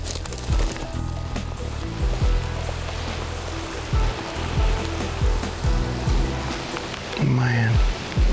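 Steady drizzling rain falls outdoors at night during a Missouri deer hunt, a soft continuous patter under low rumbling and occasional thumps, with a brief voice near the end.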